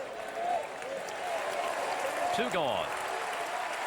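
A Monday night baseball crowd of about nineteen thousand at the Braves' ballpark applauds and cheers steadily in the ninth inning, a broad wash of clapping under an announcer's voice.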